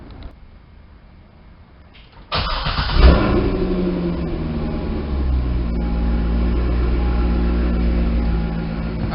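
A C6 Corvette cranks briefly after quiet moments, then fires up with a loud rev and settles into a steady, deep, close idle that carries on to the end.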